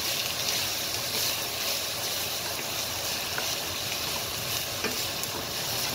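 Rice and wheat are stirred in a hot pan for arroz moro, making a steady, close sizzle with soft scraping stirs throughout and no talk.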